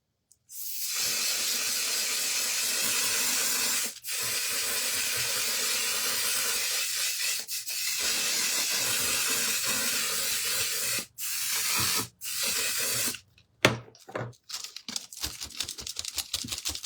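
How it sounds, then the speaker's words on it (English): Waterproof setting spray misted in long, loud, close hissing bursts, several sustained sprays separated by brief pauses, ending in shorter choppy spurts. "Waterproof setting spray. Here we go."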